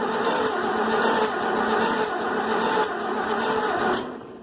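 An old tractor engine runs with the choke pulled, making a steady, fairly loud mechanical chatter with a few brief surges and a slight drop near the end.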